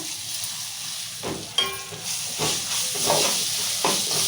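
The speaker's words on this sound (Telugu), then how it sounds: "అన్నీ ఇట్లా మంచిగా వేయించుకోవాలి" Tempering for lemon pulihora fries in a pan with a steady, moderately loud sizzle and hiss, broken by a few brief stirring scrapes and clinks, with no talking.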